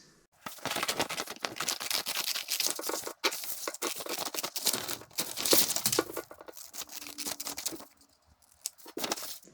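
Scissors snip and crinkle through a paper template being cut out before it is transferred onto aluminum stock, the close, quiet cuts and rustles running in steady irregular bursts, then a short pause near the end.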